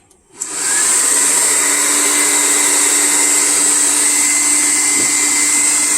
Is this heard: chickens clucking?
no